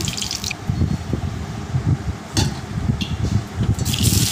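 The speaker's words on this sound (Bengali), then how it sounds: "এখন আমি তেল দিয়ে নিচ্ছি।" Cooking oil is poured into a pan for egg and onion fritters, giving soft liquid trickling and a few light splashy clicks, close up with no talking.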